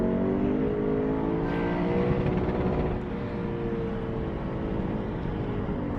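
A 2019 Lexus RC F with an Invidia Q300 cat-back exhaust and mid-pipe roars loudly nearby, its throaty note rising through a rev before easing to a steady, slightly lower drone.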